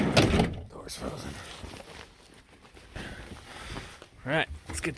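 A frozen van door in deep snow is forced open in a blizzard, giving a loud scraping, rumbling slide followed by knocks and rattles, with a voice speaking briefly nearby.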